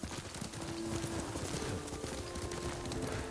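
Horse hooves clip-clop steadily at a riding pace in the video game Ghost of Tsushima, set against a dense wash of ambient noise.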